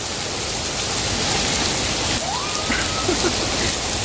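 Steady rain pours in Abu Dhabi in the Middle East, a dense continuous hiss of drops hitting surfaces, close and unbroken, with a faint voice briefly audible beneath it.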